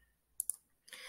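Two quick, crisp computer mouse clicks land close together while elements are being selected in design software, followed by a soft rustle of handling.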